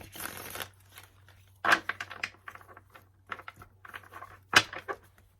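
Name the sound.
shuffling tarot cards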